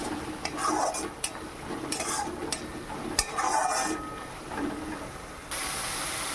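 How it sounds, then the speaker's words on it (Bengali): Spice masala with cumin and coriander powder frying in oil, a faint hiss beneath repeated metal spoon scrapes and clinks against the pan, ending in a brighter burst of steam. "এবার মশলাটাকে খুব ভালো করে কষিয়ে নিতে হবে তেল ছাড়া পর্যন্ত কষিয়ে নিতে হবে মশলাটা"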